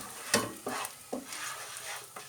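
Rice frying in butter in a pan for Turkish pilav, a soft sizzle broken by four scraping stirs spaced about half a second apart, fairly quiet and close.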